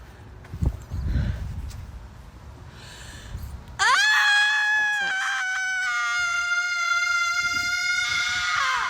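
Women screaming and wailing in a played social media clip outdoors in nature, a long, loud sustained high scream starting midway after softer breathy sounds, with talk around it.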